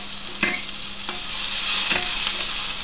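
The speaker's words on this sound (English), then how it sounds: "Getting that caramelization on these onions is heavy roasting." Onions frying hard in a pan with ginger and garlic for a squash and chickpea curry, a steady loud sizzle broken by several distinct stirring scrapes spaced about every half second, no voices.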